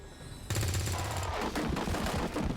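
Loud bursts of gunfire from the XCOM 2 video game, a rapid volley of shots that starts abruptly and continues in clustered cracks over steady game noise.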